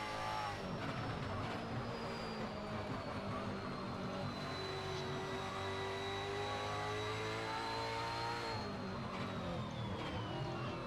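Onboard James Delaney's race car, an AK Racing supercar at speed, with the engine's steady high whine rising and falling in pitch through gear changes, loud and continuous throughout.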